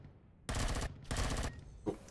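Automatic gunfire in the sci-fi survival game Empyrion Galactic Survival: two sustained bursts of rapid shots, loud and close, with a short gap between them and a brief final shot.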